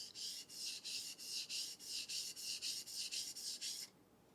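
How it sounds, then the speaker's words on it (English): A plane iron's flat back is rubbed across a sharpening stone to take off the burr: about fourteen steady back-and-forth scraping strokes in an even rhythm, close and clear, with no talking, ending abruptly in quiet. "I want to take a couple of swipes on the flat, on the back of the stone, because there'll be a tiny little burr back there"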